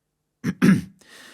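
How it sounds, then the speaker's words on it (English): A single person clears their throat with two short, gruff rasps close up, followed by a soft breathy trailing noise. "Mrs. Martin had to clear her throat before she could answer."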